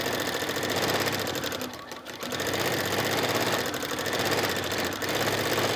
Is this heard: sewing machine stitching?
yes